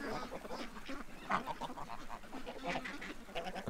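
A flock of ducks quacks and honks continuously, a busy overlapping chorus of calls at moderate distance, fairly quiet overall with no speech.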